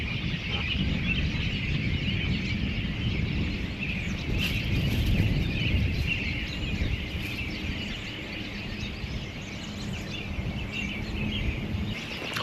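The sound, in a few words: flock of migrating birds calling noisily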